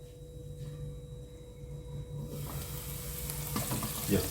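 Onions with a pinch of salt frying in a pan, a soft sizzle that grows louder and brighter partway through, with light clinks of stirring near the end.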